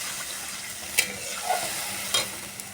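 Masala frying in oil gives a soft, steady sizzle as the water used to rinse the mixer is added, with a few light clinks of a spoon stirring the pan. Near and fairly quiet, no talking.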